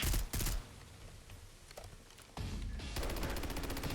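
Short bursts of AEK-973 rifle fire in Fallout 4, a quick clustered volley at the start, a quieter gap, then renewed rapid bursts continuing loudly to the end.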